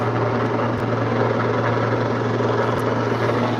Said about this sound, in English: I think it's a medical helicopter.